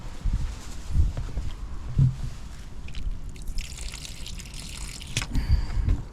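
Water drains slowly from a hot water cylinder, giving a steady close trickle and dribble with occasional knocks and handling sounds.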